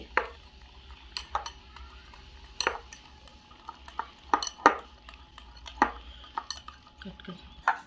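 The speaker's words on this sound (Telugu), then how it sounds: "ఇలా బాగా మిక్స్ చేసుకోవాలి బబుల్స్ లేకుండా ఉండలు లేకుండా బాగా మిక్స్ చేసుకోవాలి" Biscuit crumbs and milk being mixed into a cake batter in a bowl, a utensil knocking and scraping against the sides in irregular clinks and taps, fairly close and moderate in level, with no talking.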